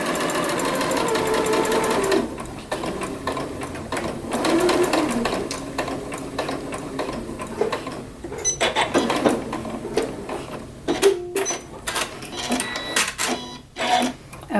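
Sewing machine stitching the side seam of a skirt's elastic waistband at a half-inch allowance, a steady close whirring run that stops briefly and resumes in several short bursts.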